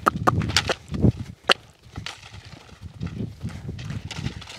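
A young horse walks under its first saddle during groundwork training, its hooves thudding in soft, uneven clip-clops close by over a rustling, noisy background.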